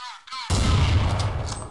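A single loud, sharp AWP sniper rifle shot in a 1v1 video game tournament cracks out suddenly and leaves a short, booming tail.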